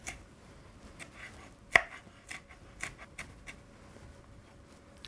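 A knife finely slices chilies on a board, giving a string of soft, irregular cutting taps close by with one sharper knock, and no talk.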